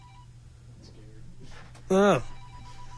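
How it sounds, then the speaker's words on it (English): On a talk radio broadcast, a telephone gives one short, loud electronic ring burst amid low background hum, with a voice speaking briefly around it. "Got a telephone call there?"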